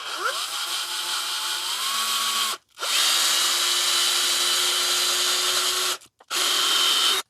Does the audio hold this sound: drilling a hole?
yes